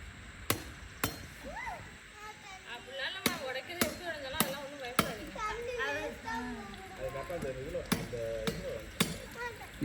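A coconut being cracked open by tapping at an outdoor Pongal celebration in Brunei, sharp hard knocks repeating at irregular intervals, loud and close, while people talk throughout.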